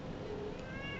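A house cat close by lets out a faint, short meow that rises and falls once, heard alone against quiet room noise.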